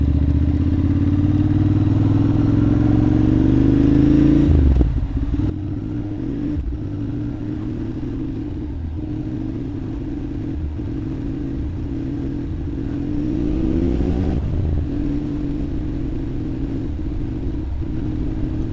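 A vehicle driving on the road at Angkor Wat in Cambodia, its engine rumbling loudly and close before slowing and pulling in, then idling with a low steady drone and light rattles.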